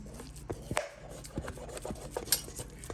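Pieces of food for sushi rice being set into a pan, a series of light clinks, taps and scrapes of utensil against metal, close and fairly quiet, irregularly spaced over a faint background hum.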